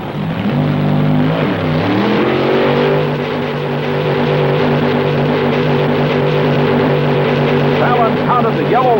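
1960s dragsters roar down a quarter-mile strip, a loud, sustained engine drone whose pitch sweeps and then holds steady, with a voice speaking over it.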